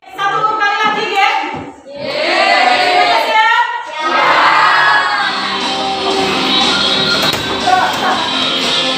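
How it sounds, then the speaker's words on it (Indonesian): Students in a classroom applaud and cheer for group 2, a loud, continuous burst of clapping mixed with whoops and shouting voices that lasts the whole stretch. "Tepuk tangan untuk kelompok 2."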